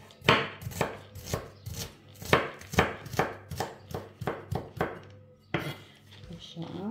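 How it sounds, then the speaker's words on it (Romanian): A knife chops onion on a cutting board in a home kitchen while soup is being made, giving a steady series of sharp, close, fairly loud knocks that pause briefly before the rhythm resumes. "Le tocăm, imediat suntem cu ea gata, că doar ceapă avem, nu-i durează mult."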